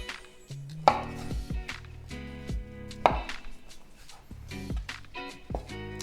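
A knife chops fresh porcini mushroom into cubes on a board, giving quick, close, rhythmic taps with a couple of sharper knocks, alone and without talk.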